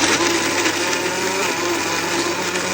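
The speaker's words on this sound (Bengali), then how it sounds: "তো এখন আমরা ব্লেন্ড করে নিচ্ছি।" A kitchen blender whirs steadily as it purees butter chicken ingredients, a loud continuous motor drone with a gritty, churning texture that holds without a break throughout.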